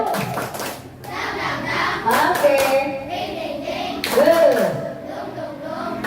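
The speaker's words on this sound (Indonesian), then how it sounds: "kita semua tepuk tangan lah" Class of children in an Indonesian lesson claps hands together in bursts of rhythmic applause, with a teacher and kids talking and chanting between and over the claps.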